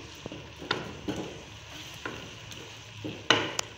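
Tomato masala for a chicken pasta is stirred in a frying pan. A spoon scrapes the pan in a few distinct strokes over a low, steady sizzle, close up and with no voices.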